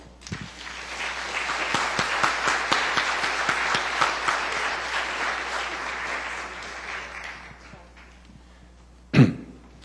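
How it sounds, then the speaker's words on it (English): An audience at a conference's closing session claps in sustained applause that swells and slowly fades. A few coughs and throat clearings are scattered through it, and a sharp knock sounds near the end. "So let's give us a round of applause."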